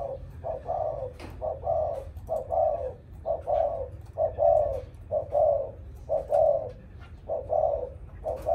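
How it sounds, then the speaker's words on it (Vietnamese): Close, steady cooing from a Thai spotted dove (hoa mơ), about eight evenly spaced soft hooting phrases repeating without pause over a low background rumble, no voices. "Gáy gù suốt ngày, ốp và gù."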